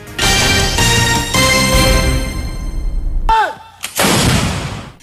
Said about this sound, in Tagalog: Eksklusibong video ito ng pagkanyo ng militar laban sa grupong Abu Sayyaf.